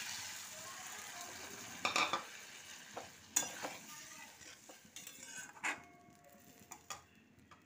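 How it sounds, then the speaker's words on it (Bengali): Kofta gravy with added water simmers quietly in a pan, a faint bubbling sizzle punctuated by scattered spoon clinks and stirring scrapes. "গ্রেভিটা ফুটছে"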